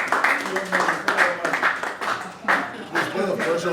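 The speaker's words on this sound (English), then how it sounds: "A round of applause for that young man called Efosa." Guests at an end-of-year party applaud a young man, steady crowd clapping with sharp individual claps standing out, continuing at an even level with voices mixed in.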